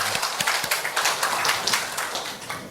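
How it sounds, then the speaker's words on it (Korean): An audience at a church Bible lecture applauds, a steady patter of many hands clapping at moderate volume, continuing evenly for a few seconds without talk. "박수."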